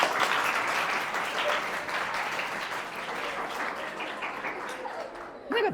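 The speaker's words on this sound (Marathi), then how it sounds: "आपण धारण करून घ्या आणि टाळ्या वाजवा ESC साठी." Students at a school drone technology session clap for a classmate's team called ESC, a dense, steady burst of applause filling the room for several seconds before tapering off, with faint voices mixed in.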